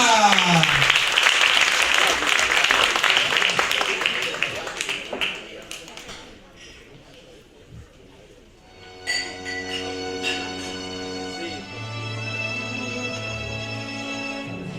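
An audience applauds a singer at a live event, with clapping loud at first and fading over several seconds before music begins, and talk can be heard during the applause.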